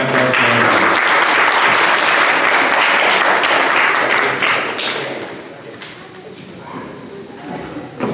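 Audience applause after a children's performance at a Mahatma Gandhi 150th birth anniversary celebration, a loud sustained crowd clapping that thins and fades toward the end.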